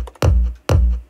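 A kick drum runs through a tube distortion plugin in Cubase and thumps twice with a boomy, saturated low end. Each punchy hit decays quickly, and a third hit starts right at the end, with no voice.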